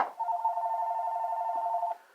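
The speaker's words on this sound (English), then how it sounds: "every time I do a video in the house, somebody loves to blow up my phone." A phone rings indoors at home with a steady electronic tone that holds for about two seconds, close and clear, then cuts off, with no voices over it.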